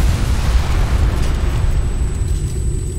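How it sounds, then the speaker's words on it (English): A bomb blast in the video game Ghost Recon: Future Soldier gives a loud, sustained low rumble that rolls on without a sharp attack, filling the short stretch with dense roaring noise. "Bomb, get clear! Boom."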